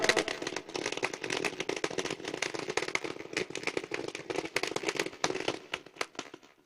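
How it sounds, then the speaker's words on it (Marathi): Firecrackers and fireworks going off in a welcome celebration make a dense, continuous string of sharp crackling pops and bangs, loud and irregular throughout with no talk over them. "फटाक्याच्या आतिषबाजीमध्ये अण्णांचं स्वागत केलं जात आहे"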